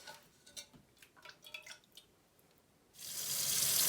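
Plain tap water runs into a sink while hair is rinsed after a rice water treatment, with a few soft splashes and drips first and then a strong, steady flow.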